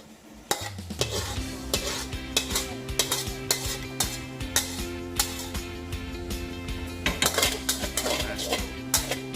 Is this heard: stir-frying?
yes